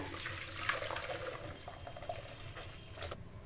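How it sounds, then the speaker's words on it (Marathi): Buttermilk is poured into a large pot for Gujarati kadhi, giving a soft, continuous liquid splashing and trickling with a few faint clinks, fairly quiet and close, with no voices. "सर्वप्रथम या मोठ्या भांड्यामध्ये आपण हे ताक घेऊया।"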